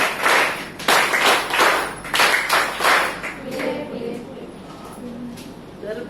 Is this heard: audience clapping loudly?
yes